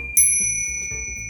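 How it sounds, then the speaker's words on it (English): Two small chings, tiny hand cymbal-bells played by the drummer of the Miss Saigon stage musical, struck once together for a bright, sustained metallic ring that slowly decays, close and alone. "in the part, they're just called chings. Right. Or it'll just say small ching."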